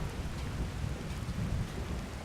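Thunderstorm with steady rain in Whiterun in a video game, a continuous dense hiss of rainfall over a low rumbling thunder bed, loud and unbroken with no voices.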